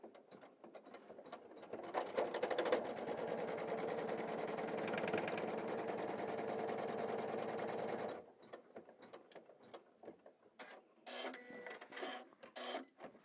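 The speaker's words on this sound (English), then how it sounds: "We're going to stitch down this border" An embroidery machine stitches down a quilt border in a steady, fast run of needle strokes for about six seconds, then stops and gives way to quieter intermittent clicks and short bursts of stitching.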